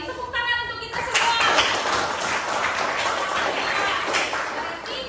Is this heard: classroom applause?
yes